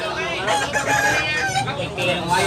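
Several roosters at a chicken market in Tabunok, Cebu, crowing and clucking in overlapping bursts close by, with people talking faintly in the background.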